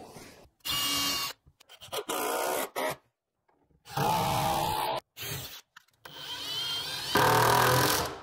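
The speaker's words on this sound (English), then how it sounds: "Okay, I'm gonna drill them in." A power drill drives small 45-degree-cut wood pieces into place in a wooden box frame, with several short whirring bursts of varying length separated by silences and handling clicks.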